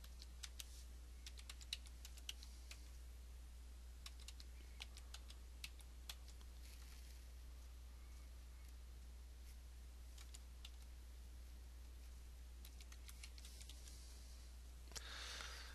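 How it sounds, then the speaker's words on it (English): Keystrokes on a computer keyboard as a domain name is entered into a web hosting order form, scattered quiet clicks in short irregular bursts over a steady low hum, with no talking. "I'm going to type in the domain name that we're looking for."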